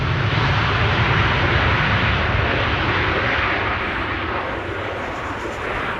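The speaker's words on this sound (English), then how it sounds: "the Atlas Air that we saw land here just now has arrived near the threshold of runway 24" An Atlas Air airplane landing on runway 24 at Amsterdam Schiphol on a windy day gives a loud, steady roar of engines that slowly eases off, with constant broadband rumble and wind.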